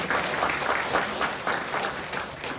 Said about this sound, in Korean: 다시 한번 박수 한번 여러분 쳐주시겠습니다.